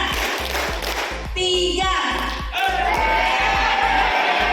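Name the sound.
group rhythmic clapping pattern, clap one two three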